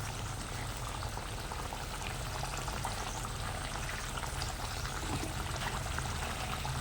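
Bacha fish go into a hot pan of oil and chili, giving a continuous, even sizzle and bubbling that holds steady throughout.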